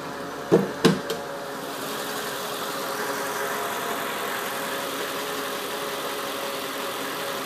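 A Mercedes SL55 engine idles with a steady, even low hum throughout, preceded by a few brief knocks or clicks near the start.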